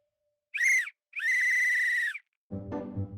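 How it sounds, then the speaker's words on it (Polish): A whistle is blown twice, a short shrill blast followed by a longer one, then a lower, voice-like sound begins. "Kapitan Trapez gwizdnął na mnie."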